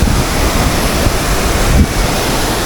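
Polluru waterfalls on the ride to Maredumilli roar as a loud, steady rush of falling water, with wind buffeting the microphone and no voices.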